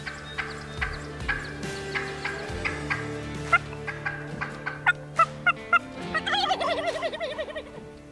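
Wild turkey calls nearby during a hunt in Beauce, Quebec: a series of sharp yelps followed by a loud, rattling gobble, with no talking.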